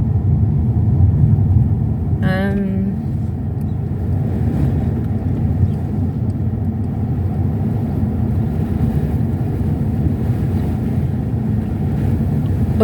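A car drives along a suburban street in Whitby, Wellington, New Zealand, its steady low engine and road rumble running throughout with some wind buffeting and a brief tonal whine early on.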